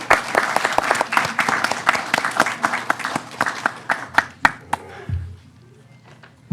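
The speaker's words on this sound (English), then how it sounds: "Can we give them another round of applause?" Scattered applause at a city council meeting, individual claps distinct and fairly close, thinning out and stopping after about five seconds, followed by faint room noise and a low thump.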